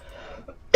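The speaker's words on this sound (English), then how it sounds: "once again, I'm about to cough" A man gives a single short, sharp cough right at the end, after a stretch of near silence with faint low background noise.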